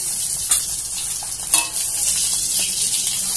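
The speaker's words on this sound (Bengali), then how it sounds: "তো এখানে মাছটা আর একটু উল্টে পাল্টে ভেজে নিচ্ছি, হয়েও গেছে ভাজা" A hilsa fish head fries in hot oil in a wok, giving a steady close hiss and sizzle with a couple of sharper spatters as the pieces are turned.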